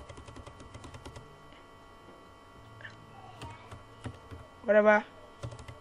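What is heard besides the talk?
typing a video name on a computer keyboard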